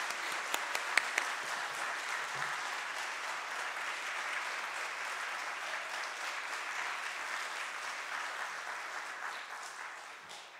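A church congregation at a Sunday worship service applauds to welcome a pastor to the front: sustained, even clapping from many hands, carrying on for about ten seconds before fading slightly.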